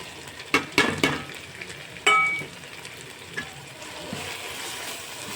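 Chicken biryani masala with garam masala, turmeric and chili powder is stirred in a pan, a soft sizzle with a few sharp scrapes and clinks of a spoon against the pan, close and with no talk.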